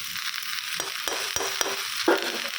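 Potatoes frying in ghee in a pan on a gas stove make a steady bright sizzle, close and fairly loud, broken by a few soft stirring scrapes and taps.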